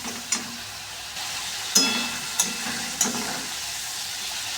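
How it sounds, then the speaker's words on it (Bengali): Goat mutton frying in spices while being stirred, with a soft background sizzle broken by four or five sharp spatula taps against the pan at irregular intervals, close by and with no talking. "পুরো ভালো মতন কষাতে থাকবে এখন কিছুক্ষণ ধরে"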